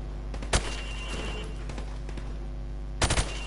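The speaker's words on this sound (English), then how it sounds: "Now, shoot each target while aiming down the sights." Rifle shots at shooting targets in a video game, one sharp loud crack early, then a tight burst of three rapid shots near the end, over a steady low background hum.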